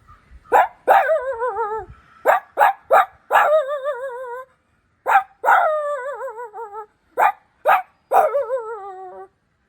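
A boy mimics a big dog with his voice: sharp, close barks in quick clusters, several drawn out into howling, wavering whines, with short pauses between bursts.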